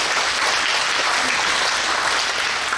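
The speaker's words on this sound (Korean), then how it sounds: "이분들에게도 큰 박수 한번 보내주시면 감사합니다" A congregation gives sustained applause for guests at a church installation service, a broad, even wash of clapping that fills the room throughout.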